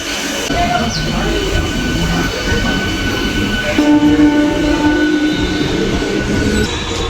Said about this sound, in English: this is a local train which is called EMU